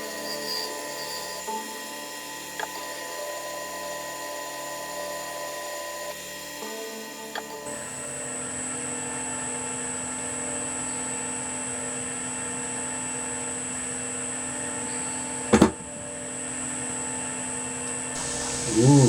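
A gem is polished on a Perspex lap charged with 50,000 grit diamond powder: a steady machine whine with faint rubbing and grinding that runs continuously, with one sharp knock near the end.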